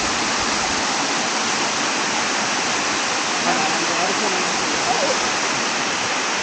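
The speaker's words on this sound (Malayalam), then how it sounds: "മോളിൽ നിന്ന് തന്നെ വെള്ളം ഇവിടെയാണ് ചാടണണ്ട." Waterfall at Pattathippara in a forest, water plunging from above with a steady, loud, broadband roar that fills the whole clip without a break.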